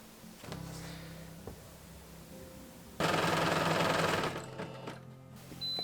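A sewing machine stitches a French seam on fabric bloomers, with a few short bursts at first and then a louder, steady run of rapid stitching lasting over a second before stopping.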